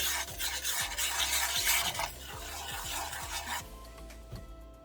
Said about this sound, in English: the first thing we're going to do is burn the curry powder